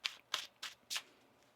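Tarot cards are shuffled in four quick crisp riffling bursts, each a short papery flutter with brief pauses between, close and clear with no talking.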